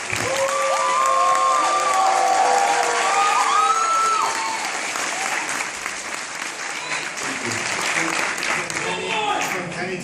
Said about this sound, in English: we should give Gavin a big round of applause